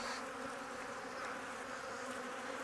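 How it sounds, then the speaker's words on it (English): Honey bees swarm around an open hive as frames heavy with stored nectar are checked, making a steady, dense buzzing hum that fills the whole moment without a break, fairly close but soft. "The bees are busy."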